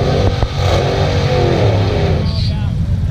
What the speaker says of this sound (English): He's gonna try to burn the tires